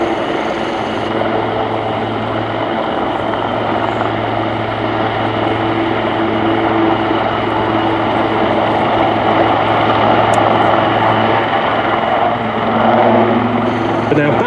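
A pair of Royal Navy Wildcat helicopters hover low at the RIAT 2024 airshow, their rotors and turbines a steady, loud drone throughout, with an announcer talking over them.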